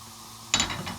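Chopped onion dropped into hot cooking oil in a pan, a sudden bright sizzle bursting in after a quiet start and continuing close and steady.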